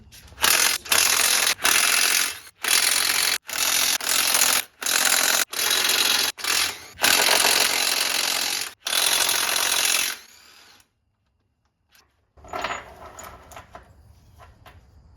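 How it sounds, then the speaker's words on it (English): Bolts come out of the back of a Getrag 260 gearbox case with a power tool, buzzing in about a dozen loud, even, one-second bursts with short gaps, then a pause and a final rougher run. "we're going to take the 10 or 11 so bolts off the back here"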